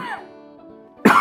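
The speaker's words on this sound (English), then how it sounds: "Ask them to cough very strongly." One sharp, forceful cough bursts out at the very end after a brief, quieter vocal sound.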